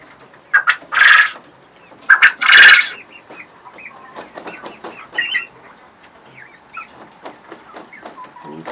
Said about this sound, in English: Testing their wings, the younger ones are.